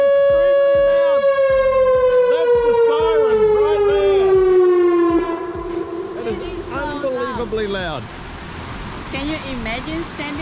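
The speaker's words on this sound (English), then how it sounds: "I think wait until the next siren and then we're there." A loud warning siren at a dam in Beavers Bend State Park wails with a long, slowly falling tone, then fades out over rushing water while people talk.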